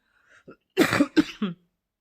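A few short coughs from a lingering cold close by, a couple of small throat sounds followed by three harsh bursts in quick succession.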